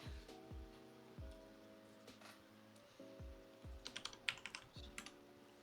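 Computer keyboard typing heard as a run of clicky keystrokes, sparse at first and then a quick rapid burst toward the end, sitting over a steady background of repeating musical tones.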